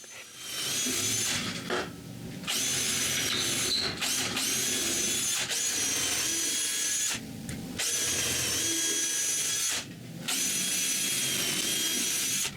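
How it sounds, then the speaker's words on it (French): A power drill boring holes near the ends of wooden boards, whining in several sustained runs separated by short pauses, close and fairly loud with no talking. "Pour éviter que les vis fassent éclater les bouts des planches, je perce des trous."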